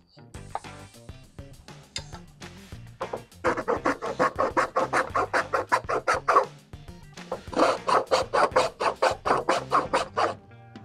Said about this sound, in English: with a little bit of filing, I got it to fit quite a bit better